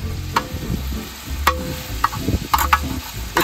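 Steak sizzling on a hefty cast iron griddle over a fire disc while being turned with a double spatula, a close crackling sizzle broken by several sharp metallic scrapes and clanks.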